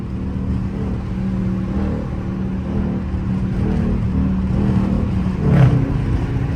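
A Dodge Charger RT with mufflers and resonators deleted accelerates hard, a loud, close engine roar that builds steadily and holds, heard from inside the car with no talking.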